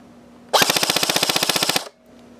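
A Classic Army SCAR Sportline airsoft rifle fires one rapid full-auto burst of about twenty evenly spaced shots at roughly 900 rounds per minute, loud and close, lasting just over a second with no talk.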